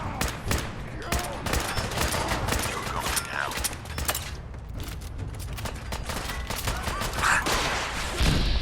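A missile fired in a shooter video game among heavy gunfire, a loud whooshing blast rising out of dense, continuous shooting and explosions.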